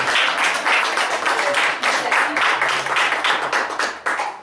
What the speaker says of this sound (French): Oui, il faut l'applaudir,